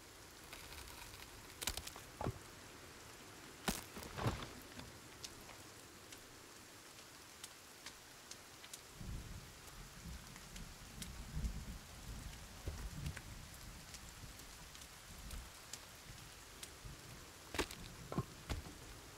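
Steady rain patters in the survival video game Sons Of The Forest, with low thunder rumbles and scattered sharp drips or clicks, all fairly quiet and without speech.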